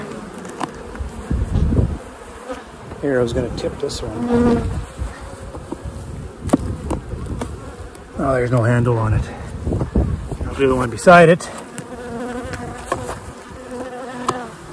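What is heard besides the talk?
bees buzzing in hive box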